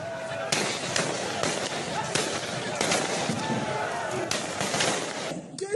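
Police gunfire aimed at protesters rings out as a chaotic burst of scattered cracks and bangs over a dense, noisy crowd, with shouting voices filling the background throughout.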